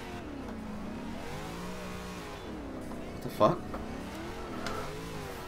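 A car's engine revs and whines while drifting in the racing game Forza Horizon 2, with sweeping pitch rises and falls and a brief tire squeal, as a man swears in surprise over it.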